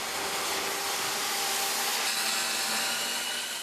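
An electric saw cuts through the plywood floor of a corroded shipping container in a Busan port repair yard, a loud, steady, unbroken roaring whine with no voices.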